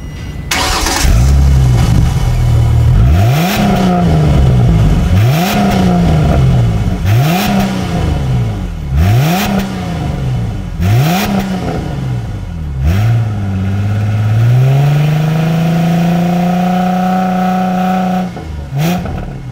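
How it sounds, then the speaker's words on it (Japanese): A Ford Mustang convertible with a 4.0-litre V6 revs in a series of loud, rising and falling blips close by, then settles into a steadier, sustained higher-rpm drone before easing off. "V6 なんだけどちょっとしょぼうとかするのかなと思ったらまあそこそこアメ車っチックな音がします"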